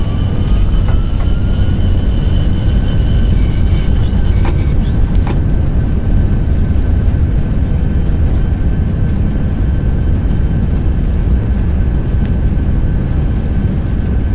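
Airbus A321 reverse thrust on a landing rollout in a flight simulator: a loud, steady broadband engine roar runs the whole way, with brief higher whines partway through and no voices.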